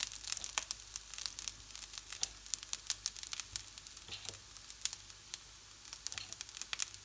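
Sarma stuffing filling sautéing in a pan, a steady close sizzle with frequent sharp crackles and pops, no talking.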